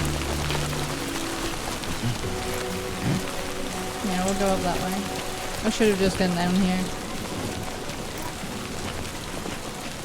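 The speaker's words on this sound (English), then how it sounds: "Can the rain go away, please?" Steady rain in the video game Death Stranding 2 hisses as a constant wash throughout, with someone talking over it and occasional game sounds.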